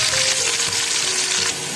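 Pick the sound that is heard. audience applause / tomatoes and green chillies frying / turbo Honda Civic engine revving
tomatoes and green chillies frying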